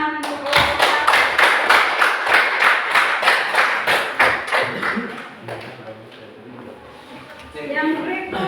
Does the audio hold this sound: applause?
yes